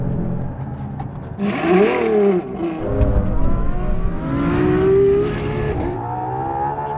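A Ferrari Enzo and a LaFerrari accelerate hard in fourth gear from 50, engines droning loudly and steadily with rising whirring pitch, up close and sustained throughout without talk.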